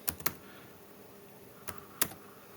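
Computer keyboard typing in a quiet room, a few sharp, faint keystrokes in small bursts separated by pauses.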